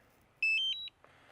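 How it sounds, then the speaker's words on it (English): A DJI Neo drone's remote controller powers on with a short rising sequence of bright electronic beeps, close and clear, then a faint rustle in a quiet room. "So now we go turn on the"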